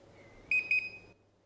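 A sous vide cooker beeps to signal its water bath has reached temperature, giving two quick bright electronic tones close together, clear and near against a faint background hum.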